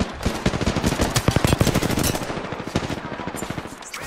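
Automatic weapons fire in the video game Apex Legends, rapid loud bursts of gunshots rattling almost continuously for about four seconds.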